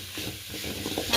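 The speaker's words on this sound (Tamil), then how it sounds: "எண்ணெய், கடுகு, பச்சை மிளகா, கருவேப்பிலை, வெங்காயம், தக்காளி இதெல்லாம் சேர்த்து நல்லா வணக்கணும்." Onion, tomato, green chili, curry leaves and mustard seeds sautéing in hot oil, a steady close sizzle with the scrape of a spoon stirring through the pan, no voices.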